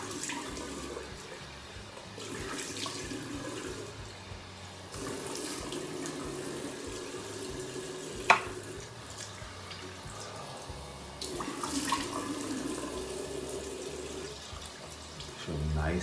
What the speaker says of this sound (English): Make sure you can hear me with the hot water on.